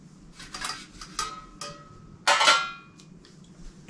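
A small Coghlan's folding metal emergency stove opened into its skillet position, a close series of bright metallic clanks and ringing clicks spaced irregularly, the loudest near the middle, with no voices.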